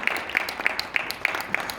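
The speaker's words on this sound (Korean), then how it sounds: "박수로 맞이하겠습니다." Audience applause in a church hall welcoming a pastor to lead a colloquium session, a short burst of scattered claps with a few sharper individual hand claps standing out over a soft crowd wash.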